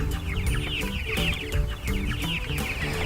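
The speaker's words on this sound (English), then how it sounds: "So we've got some meat chickens here on Buena Vista Farm." Meat chickens raised on grass at Buena Vista Farm cluck steadily as a flock, a continuous busy chorus of overlapping clucks with no talking, moderately loud and near.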